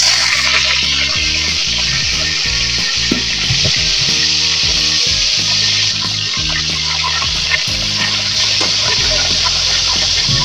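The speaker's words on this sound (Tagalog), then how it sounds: "Mag-prito po kayo ng pork chop" Loud, continuous sizzling of pork chops frying in hot oil, with occasional clatter and stirring sounds close by.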